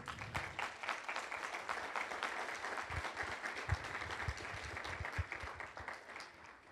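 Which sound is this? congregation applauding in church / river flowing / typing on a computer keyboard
congregation applauding in church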